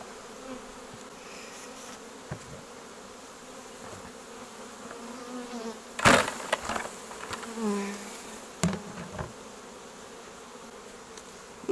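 Honeybees buzz around brood frames pulled from a hive at an apiary while being shaken into nucleus hives, a steady close insect hum with sharper bumps and knocks from handling the frames.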